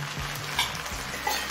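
Navaratna polao rice being stirred with powdered sugar in a pan over a high gas flame, a soft continuous scraping and faint sizzle with small clinks near the start and end, no voices.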